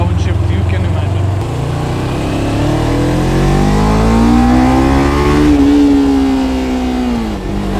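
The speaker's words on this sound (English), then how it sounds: "Slipper clutch plus rev matching gives you the smoothest possible downshift you can imagine." Close and loud, a Kawasaki Ninja 300 motorcycle downshifts with a slipper clutch and rev matching: the engine note rises and then drops in a smooth, falling whine.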